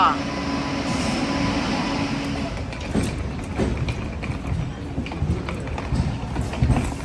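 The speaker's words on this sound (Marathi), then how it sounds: "फायनली आमची ट्रेन इलेली असा." A train arriving on the Konkan Railway rumbles and rattles steadily nearby, with rhythmic clacking of wheels on rails and faint voices murmuring underneath.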